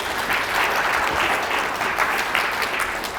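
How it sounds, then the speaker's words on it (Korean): A room of attendees at a regional Peaceful Unification Advisory Council meeting claps in a dense, even round of applause that holds steady throughout. "두 분한테 박수 한번 보내주시기 바랍니다"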